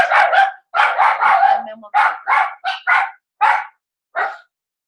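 Dogs bark in a burst of sharp, close barks after a knock at the door, a quick volley followed by a few spaced single barks, loud and alone.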